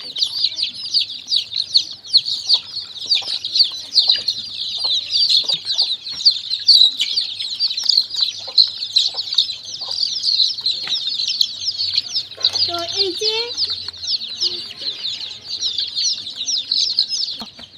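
A flock of chickens fed on homemade winter feed cluck and chirp continuously and fairly close, in a busy, unbroken chorus with occasional wing flutters and soft background noise.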